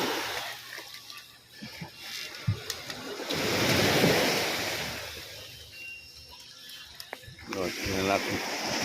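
A wave surges in and crashes with a broad, rushing roar, swelling then receding, as people talk faintly nearby.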